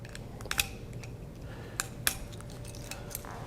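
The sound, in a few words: cutting the foil on a wine bottle with a wine-tool knife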